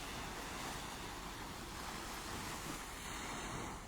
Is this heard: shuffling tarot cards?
no